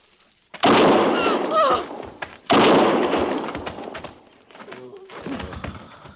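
A gunshot in a 1950s western radio drama set at a frontier cavalry fort: two loud, sudden bangs about two seconds apart, each with a long decaying tail, followed by quieter rustling.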